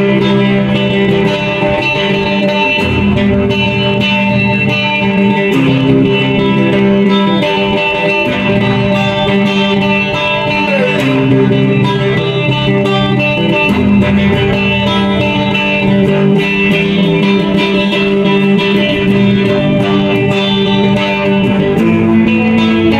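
An electric guitar is played through an M-vave mini guitar effects pedal, giving a loud, continuous processed tone with dense chords and sustained notes. It runs alone with no talk.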